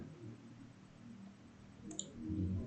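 A single crisp computer mouse click while working in a software program, short and faint against low room noise.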